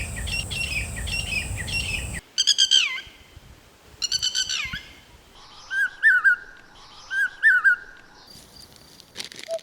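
Bird calls, including those of species such as the lapwing and common hawk cuckoo, ring out as a steady high chorus, then as repeated clear chirping and whistled phrases in distinct bursts, with no talking.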